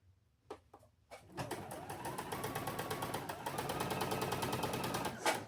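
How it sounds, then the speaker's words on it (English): A sewing machine stitches a folded quilt block along its crease, a steady close rapid whir running continuously after a few brief starts and stops, with no talk. "I'm going to sew in that valley."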